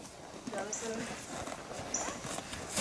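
Horses walk with riders on a farm, their hooves clip-clopping softly and irregularly up close, while people talk over and around the hoofbeats.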